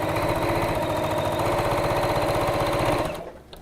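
A sewing machine runs steadily stitching a fabric gift bag, a close, fast rhythmic whir that holds for about three seconds and then stops abruptly, leaving a faint quiet tail.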